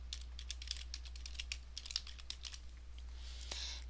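Rapid, uneven clicking of keys on a computer keyboard, close and fairly quiet over a low steady hum, with a brief rustle near the end.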